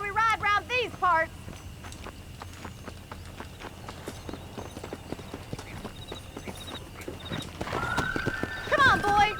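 Horse in Red Dead Redemption, ridden by John Marston: a whinny opens, then rapid hoofbeats clatter steadily and close, ending with another neigh and rising effects.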